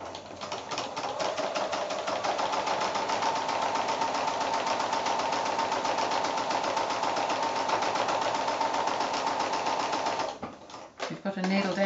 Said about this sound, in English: Just a straight stitch right up close in the ditch there.